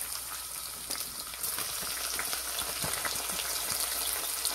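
Onion frying in a pan for Seeraga Samba chicken biryani makes a continuous, even crackling sizzle, close and moderately loud, with faint stirring underneath.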